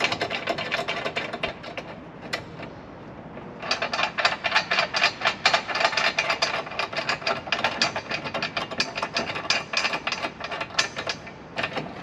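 A hand ratchet snugs down bolts on a Broaddict beach bar being fitted to a four-door Ford Bronco, giving close, dense bursts of rapid metallic clicking with a brief pause before a long stretch of steady ratcheting.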